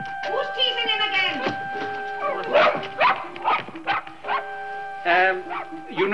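A dog barks on a street in a 1962 comedy film scene, several sharp barks and yelps scattered through the scene amid frequent overlapping voices and a steady background tone.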